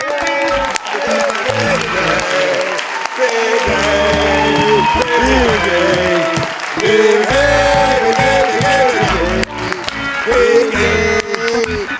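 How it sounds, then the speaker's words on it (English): A song with steady instrumental backing and vocals plays loudly, with sharp clap hits standing out among the music. "It's 4 claps, really quick."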